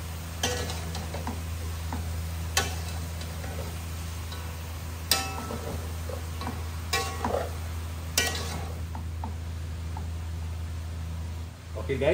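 Chicken necks frying in a pan for adobo give off a steady, moderate sizzle, broken every few seconds by sharp clicks and knocks of a utensil or lid, with no voices over it.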